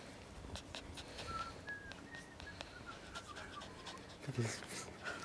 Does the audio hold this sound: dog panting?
yes